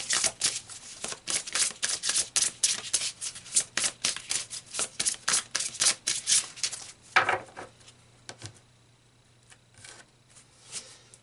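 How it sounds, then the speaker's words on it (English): Tarot cards are shuffled and drawn in a rapid run of crisp riffling flutters and slaps that last several seconds, then slow to a few soft card snaps and slides close by. "So let's pull some more cards here."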